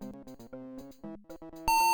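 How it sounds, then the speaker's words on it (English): Beeping from the video game Daughter of Serpents: a run of short electronic tones in a choppy rhythm, ending in a sustained loud, bright beep, with no voices. "Yeah, the beep is from the game."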